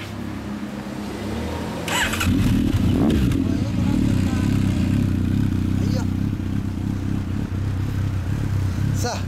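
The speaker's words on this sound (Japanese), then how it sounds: "こっちからエンジン音聞かせてもらえる" A Honda CB1100 motorcycle engine with an all-titanium exhaust idles nearby, then revs up and keeps running with a rough, throbbing rumble; voices sound faintly in the background.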